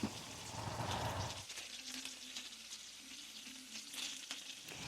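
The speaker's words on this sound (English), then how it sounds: "And now we're adding in the bacon" Bacon sizzles and crackles in a frying pan, loud and close at the start, then settling into a steady, softer fry with a low hum underneath.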